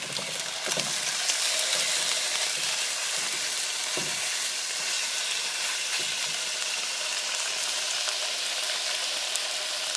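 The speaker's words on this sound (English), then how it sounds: "See how that sizzles?" Food frying in a pan in a home kitchen gives a continuous, bright sizzle and hiss that stays steady and close for the whole stretch, with occasional soft clicks of stirring and no talk.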